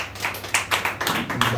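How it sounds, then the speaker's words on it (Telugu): A church congregation at a Sunday worship service claps along in a string of sharp, fairly close hand claps, loosely rhythmic, over a faint room background. "చప్పట్లు కొట్టి"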